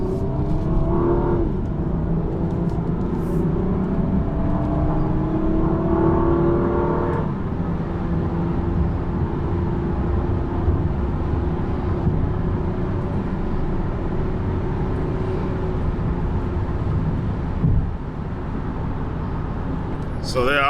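Engine of a 2007 Honda Pilot EX-L V6 SUV pulling away and accelerating gently on a chilly night drive, a steady low hum rising in pitch, heard from inside the cabin.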